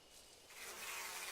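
Bees buzz around a hive in the horror visual novel game Death Mark, a faint steady insect hum swelling slightly as the swarm drones on.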